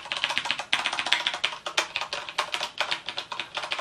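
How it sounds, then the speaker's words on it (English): Fast, steady typing on a Roccat Ryos MK FX mechanical keyboard with Cherry MX Brown switches, a close, continuous stream of sharp clacky keystrokes with no talk. "this is the Cherry MX Brown that comes with the Roccat keyboard."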